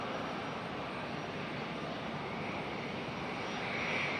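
Airbus A350-941 airliner at Raleigh-Durham International, a steady, fairly faint broadband engine roar that holds even throughout and swells slightly near the end, with no voices.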